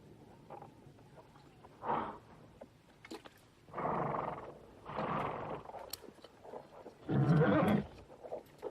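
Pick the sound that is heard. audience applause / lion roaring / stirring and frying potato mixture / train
lion roaring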